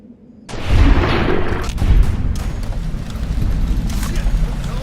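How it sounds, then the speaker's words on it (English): Gunfire in the Fallout New California video game, with a sudden loud boom followed by further sharp cracks and reverberant rumbling under a sustained noisy bed. "We heard gunshots."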